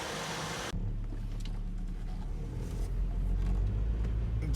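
A seized 1987 Nissan D21 engine, left sitting for 30 years, cranks and catches, settling into a loud, steady low rumble that builds slightly over a few seconds after a brief broadband burst at the start.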